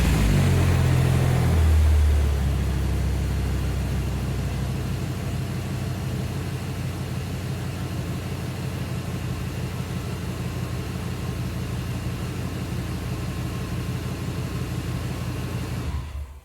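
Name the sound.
2003 Dodge 3500 V10 truck engine starting and idling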